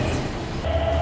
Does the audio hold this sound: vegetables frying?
no